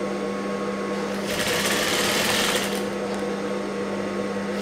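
A sewing machine runs steadily as golden piping is stitched onto a blouse, its whirring growing louder and busier in the middle over a constant low mains hum.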